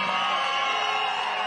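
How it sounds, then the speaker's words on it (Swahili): Crowd at a political rally in Kiambu, Kenya, cheering and whooping for the deputy governor, a dense sustained roar of voices and shouts filling the whole moment. "Mpigieni makofi."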